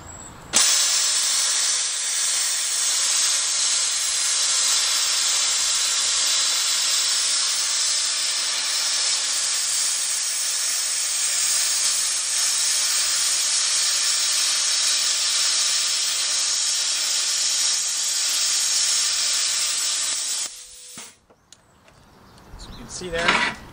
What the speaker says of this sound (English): We're just going to gouge out the weld, just show you kind of what this thing does.